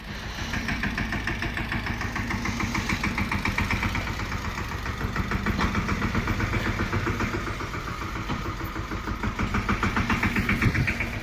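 A tractor engine idles steadily nearby, a continuous low rhythmic chugging that holds an even level throughout with no other sounds, while the tractor is being unloaded.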